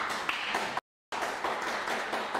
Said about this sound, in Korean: 박수 부탁드리고요